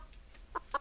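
Farm chickens being fed give two or three soft, short clucks, faint and close, with low background noise and no talk.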